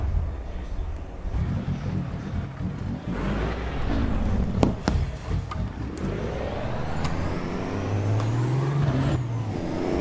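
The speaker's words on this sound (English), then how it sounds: "I'll take the handbrake off" Truck handbrake air release in American Truck Simulator with a heavy rig, sharp hisses of air over a loud, rumbling engine drone that climbs in pitch as the truck pulls away.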